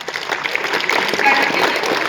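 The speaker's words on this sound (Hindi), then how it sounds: "तो जोरदार तालियां" A dense wash of loud applause fills a stadium at a school's annual sports competition prize ceremony, steady and close throughout this short burst.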